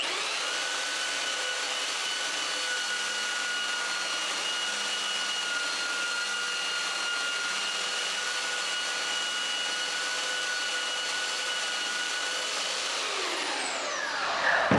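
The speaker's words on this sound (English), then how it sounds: "If I leave the sander in one spot, it will create a divot." Electric sander worked back and forth along a curved edge, a steady whining motor hum with a bright tonal whine, continuous and close for most of the stretch before winding down at the end.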